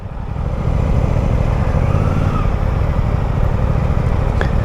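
A Suzuki GSX-8R motorcycle engine drones steadily while being ridden, its note holding a constant loud rumble mixed with wind noise after a brief quieter start.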